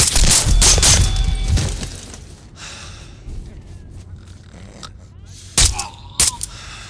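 Gunfire in the video game Splinter Cell: Blacklist: a loud, dense burst of rapid shots up close, then quieter ambience and two sharp single shots near the end.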